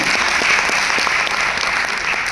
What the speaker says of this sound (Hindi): तालियां आपकी बिल्कुल बनी रहे